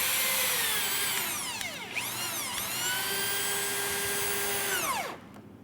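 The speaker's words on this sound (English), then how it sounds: "He'll get a screw started, then we can kind of shift it around if we have to." A power drill drives a screw into the hinge side of a wooden door frame during installation, whining loud and close for about five seconds with rising and falling pitch as it speeds and slows, then stopping.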